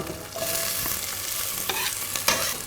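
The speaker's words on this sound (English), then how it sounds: "Now, I will add my onion in" Onion sautéing in a pan of oil and a little butter gives a steady, close sizzle throughout, with a few sharp clinks and scrapes of a utensil stirring partway through.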